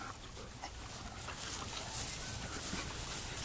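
A dog, likely a pit bull, pants and whimpers faintly and at close range against steady outdoor noise during off-leash recall training with an e-collar; no one speaks.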